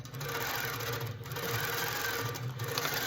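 A Handi Quilter Pro Stitcher computerized quilting machine stitching rows across a quilt, a steady, close mechanical whir and rapid needle chatter that runs continuously without pause.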